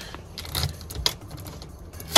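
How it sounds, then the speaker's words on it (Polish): New, not-yet-programmed keys for an Audi RS6 C5 Avant jangle close up in a few quick metallic bursts, ending in one sharper clink, with no talking. "O, mam dwa takie nowe kluczyki."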